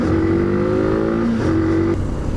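A motorcycle engine idling and revving at low RPM, with a steady deep drone and a faint rising tone, loud and close throughout.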